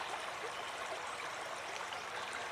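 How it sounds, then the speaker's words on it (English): Fish tank in a home fish room draining from the bottom into a floor drain, a soft, steady trickling flow of water, faint and continuous with no speech. "I do have it draining there at the bottom out into my drain."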